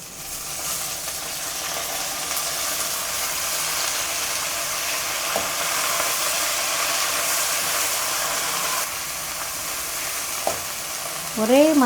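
Onions and manathakkali greens sautéing in a pan give a loud, continuous sizzle with occasional stirring scrapes, ending in a brief warbling tone.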